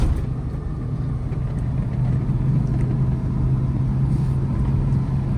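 A car cruising steadily in fourth gear gives a continuous low engine rumble and road drone heard from inside the cabin, even and unbroken throughout with no voices.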